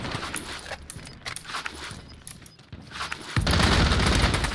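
Gunfire in the Warzone battle royale game, Rebirth map, scattered shots and bursts under busy in-game noise, with a loud sustained burst of fire near the end.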